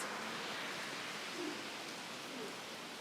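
Heavy rain along North Bridge Road, a dense, steady hiss of falling water that stays even and continuous, with no talking.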